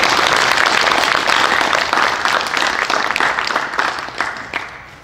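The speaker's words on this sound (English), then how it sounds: "Please clap." Audience clapping at a youth orchestra's spring concert, a dense, loud and steady wash of applause that tapers off toward the end.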